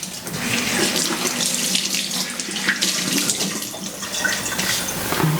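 Running tap water pours steadily into a sink while a chile pepper is rinsed under the faucet, a continuous close splashing hiss with small shifts as the pepper moves through the stream.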